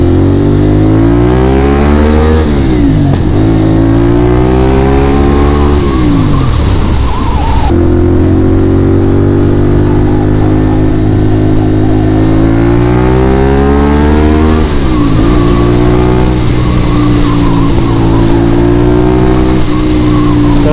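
A CFMOTO 450SR motorcycle riding on an expressway, its engine droning loudly and steadily with repeated rises and falls in pitch through gear shifts, under strong wind noise.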